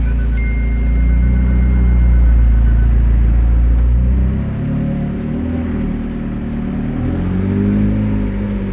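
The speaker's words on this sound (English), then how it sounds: "Put the car back into track now and get going." McLaren 720S Spider in track mode pulling away, its engine a loud, steady low rumble that rises and shifts pitch as it accelerates, heard from inside the cabin with no talking.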